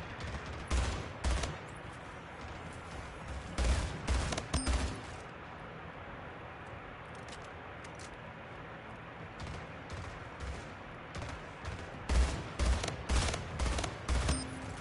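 Rapid gunfire in the Splitgate video game, clustered bursts of sharp shots separated by quieter stretches, fairly close and loud against a low steady game background.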